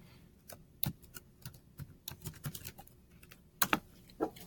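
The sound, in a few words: typing a password on a computer keyboard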